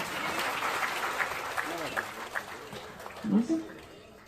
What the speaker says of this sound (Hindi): जोरदार तालियों की आवाज के साथ